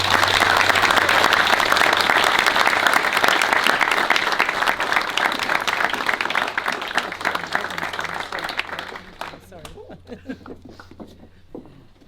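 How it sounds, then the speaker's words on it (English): Wedding guests at a ceremony applaud together in a dense, loud burst of clapping that holds steady for several seconds, then thins out and fades to scattered claps near the end. "So shall we applaud the uniting of these two families?"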